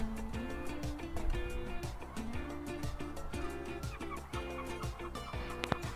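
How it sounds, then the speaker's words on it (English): Seagulls call near a dog-walking field, their repeated squawking cries layered and fairly close, along with other bird chatter. "And we've got seagulls."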